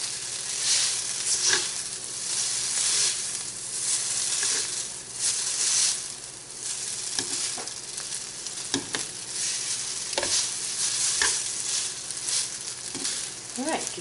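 Noodles with onions and garlic frying in a pan, a steady close sizzle broken by scattered stirring scrapes and clicks, moderate level, with no voices.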